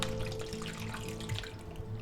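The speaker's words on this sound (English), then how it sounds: "Now all we have to do is add our marinade to the bag. Just pour that right in there." A liquid marinade is poured into a sous vide bag holding pork loin, making a soft, steady trickling and splashing close by, with a faint hum underneath.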